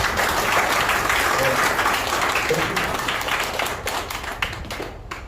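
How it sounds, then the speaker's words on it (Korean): Audience applause at a workers' education lecture on a subcontract shipyard labourers' strike, a dense round of clapping from the room that gradually thins and fades out near the end. "박수 쳐야 되는 거 아닙니까?"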